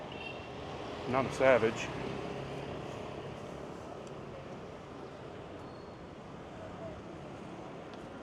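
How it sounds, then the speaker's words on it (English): Strong wind gusts outdoors on a city street, with a steady broad rush of wind buffeting the microphone throughout and someone speaking briefly near the start. "Ooh, big wind right there, so big wind."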